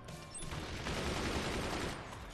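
Machine gun fire in the game Forts during a 4v4 multiplayer match, a dense rattling fusillade of rapid shots, fairly faint and distant, running steadily through the stretch with no talk.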